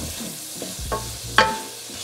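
A utensil scrapes and clacks through tomatoes sautéing in a pan for pork binagoongan, with a soft sizzle underneath and a few distinct knocks, the sharpest near the end, and nobody talking.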